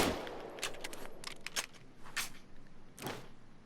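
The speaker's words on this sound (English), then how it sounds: "So I'll try to fire as fast as I could" Rapid semi-automatic fire from an M1911 Crosskill pistol in Payday 2, several sharp shots in quick irregular succession with a ringing tail after each, fairly loud and close with no talk.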